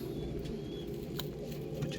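Pigeons cooing nearby, soft low rounded coos over a steady background murmur, brief and without talk.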